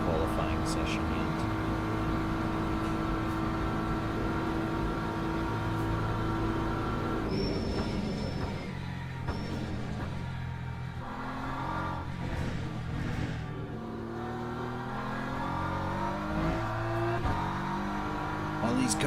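Race cars in the Le Mans video game roar past during a qualifying session, engines revving and whooshing by in a continuous loud drone that swells and fades, with talk over the top.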